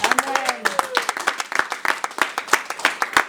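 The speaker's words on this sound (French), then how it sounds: "Est-ce qu'on peut acclamer pour eux?" A church congregation applauds, with steady rhythmic clapping from many hands filling the space, while a voice speaks briefly at the start.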